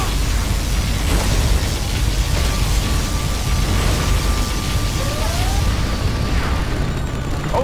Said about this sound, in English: our enemy is using that particle cannon